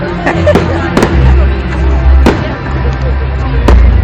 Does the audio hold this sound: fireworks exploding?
yes